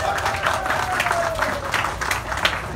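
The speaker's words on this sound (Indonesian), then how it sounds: "Tepukan untuk pengacara majlis." Audience applause for the master of ceremonies at a Malaysian official event, steady clapping throughout with a voice speaking over it.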